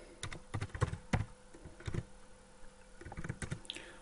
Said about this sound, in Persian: خب مدت زیادی طول میکشه تا من این رو تایپ کنم